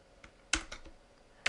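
A few sharp, close keystrokes on a computer keyboard while typing code in Adobe Flash CS4, with isolated clicks followed by a quick cluster, alone in a quiet room.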